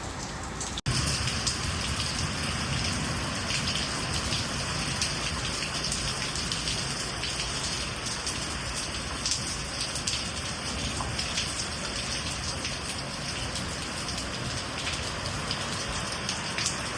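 Heavy rain pours steadily as a dense, even hiss with a strong wind, in an unseasonal summer downpour. A single sharp knock sounds near the start, and there is no talking.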